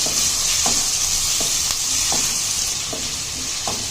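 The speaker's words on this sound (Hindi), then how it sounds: "अब हम इसमें चिकन ऐड करेंगे, मिक्स करेंगे" Chicken, peas and potatoes stir-frying in a pan, a steady loud sizzle broken by several rhythmic spatula scrapes and knocks against the pan.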